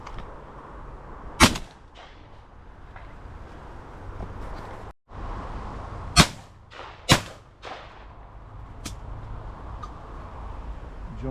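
Shotgun shots while pigeon shooting on bean stubble: several sharp, loud single reports spaced seconds apart over a quiet outdoor background, each with a brief tail.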